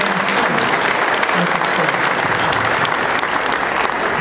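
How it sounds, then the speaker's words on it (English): Indoor audience at an evening event in Tampa, Florida clapping loudly and steadily in a dense, continuous wave of applause for several seconds. "Let's give them a round of applause."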